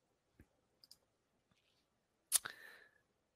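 Several crisp computer mouse clicks while browsing a shopping website, a few light single clicks followed by a louder sharper click with a brief rattling tail, all close and alone in a quiet room.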